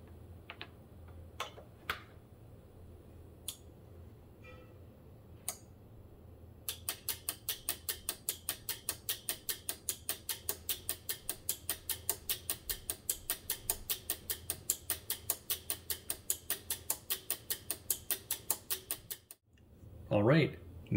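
Relays in a homemade relay computer's sequencer click in a steady rapid train, sparse ticks first, then a fast even run of sharp clicks for about twelve seconds before stopping, close and fairly quiet, with no talk.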